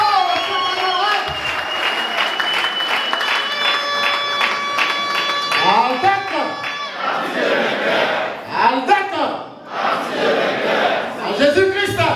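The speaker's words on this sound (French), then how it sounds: "Acclamons très fort ce camarade." A crowd at a Congolese Christian democratic party political gathering cheers, shouts and applauds loudly, with rising whoops and chanting voices over steady clapping.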